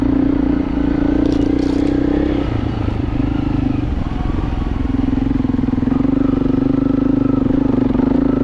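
An adventure motorcycle rides off-road trails at an off-road vehicle riding area, its engine droning loud and close throughout, with rattles and gravelly scraping as the bike climbs.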